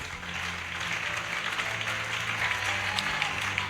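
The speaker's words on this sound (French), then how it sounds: "Est-ce que tu peux m'aider à acclamer fortement le Seigneur?" A church congregation claps loudly and steadily in acclamation of the Lord, a thick sustained wash of applause with faint crowd voices mixed underneath.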